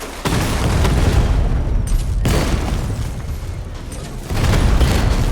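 Heavy booming explosions in the Batman: Arkham Knight video game as Diamondback is struck, loud, dense rumbling blasts filling most of the clip, with a brief dip before a second surge.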